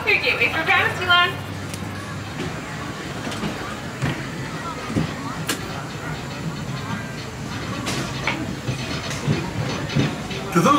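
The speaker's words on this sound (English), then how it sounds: "welcome aboard the Disneyland Railroad" Disneyland Railroad train rolling along its tracks, a steady rumbling ride with rhythmic clicks and occasional sharp metallic squeals and hisses, heard up close from aboard the car.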